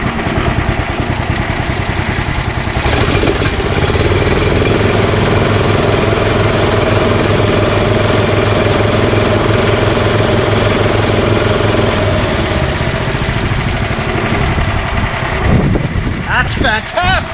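An EZGO Workhorse 1200 utility golf cart with a repowered gas engine, revving up at full throttle and holding a loud, steady, rough drone for about ten seconds before easing off.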